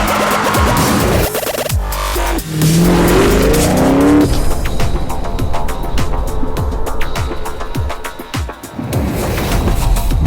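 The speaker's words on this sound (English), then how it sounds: "The team pushes the engine to redline" A Dodge Viper engine on a dyno in a test cell revs hard toward redline, a loud, continuous roar with rising pitch sweeps, then holds a harsh, steady high-rpm drone before easing off.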